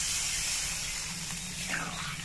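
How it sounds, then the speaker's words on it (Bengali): Broth is poured into a hot pan of fried potatoes and spices, giving a loud, continuous sizzling hiss that stays steady and close throughout. "এবার এর মধ্যে আমি ঝোল দিয়ে দিচ্ছি।"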